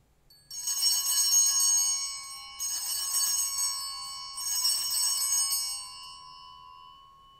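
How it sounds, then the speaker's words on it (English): Altar bells rung by a server at the elevation during Mass, three distinct bright ringing bursts in steady succession, each shimmering and fading, clear and alone in a quiet space. "At that moment, the altar server will ring the bells three times."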